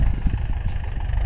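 A Mahindra 575 DI tractor pulling a chisel plow through a field, its diesel engine giving a steady, loud, low rumble close by with faint rhythmic pulsing and no voices.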